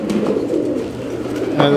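Pigeons kept by a fancier in Lahore coo in soft, low, repeated calls nearby, with a louder burst of cooing near the end.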